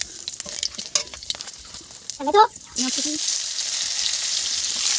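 Bay leaves and panch phoron spices crackle and sizzle in hot oil in a wok. Scattered pops and a short stir come first, then a loud, steady frying hiss that holds to the end.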